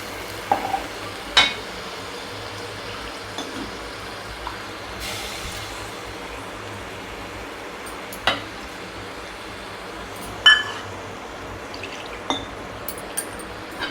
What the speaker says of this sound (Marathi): वाटण चांगलं परतून घ्यायचं